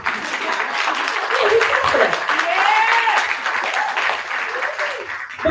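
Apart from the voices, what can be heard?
audience applause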